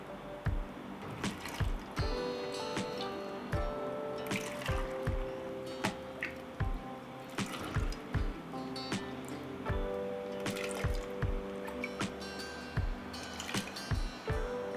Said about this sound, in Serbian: Voda sa šećerom je proključala i tako vrelu ću sipati u tegle